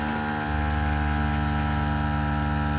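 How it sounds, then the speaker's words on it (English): A small air compressor with a half-gallon tank kicks on for the air ride suspension of a Club Car DS golf cart, its motor jumping into a loud, steady droning hum that holds evenly with no voices. "The compressor kicks on like almost immediately because I've got just the half-gallon tank in here"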